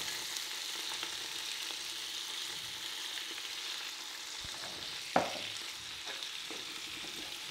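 Garlic and peppers sweat in olive oil in a pan, making a steady, moderate sizzle with broadband hiss throughout and a single brief clatter of stirring near the end.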